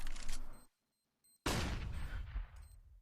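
Gunfire in a competitive video game match: a burst of shots, a brief near-silent gap, then a sharp, loud report with a lingering, decaying tail.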